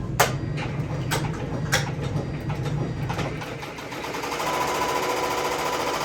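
An embroidery machine stitches white thread onto a t-shirt with a fast, steady mechanical chatter and a few sharp clicks near the start. The tone then shifts to a smoother, higher whir.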